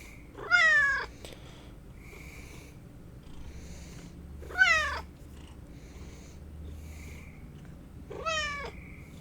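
A cat meows three times at roughly four-second intervals, each call a clear rising-falling yowl, with a faint low purr-like rumble running steadily underneath.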